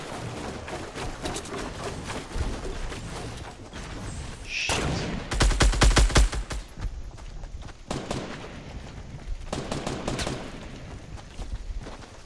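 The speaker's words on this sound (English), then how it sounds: "Shots at us. Shots at us." Gunfire in the battle royale game Fortnite crackles in bursts, with dense rapid volleys around the middle and again later, loud and close, mixed with other in-game noise and no clear talk.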